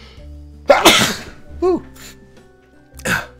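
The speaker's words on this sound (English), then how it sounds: "Anytime a YouTuber sneezes on camera and they catch it and they don't edit it out, always make a wish." A YouTuber sneezes once on camera during a Roblox Lumber Tycoon 2 gaming session: a single loud, sharp burst close to the microphone, followed by a brief exclaimed voice and quieter breathy sounds.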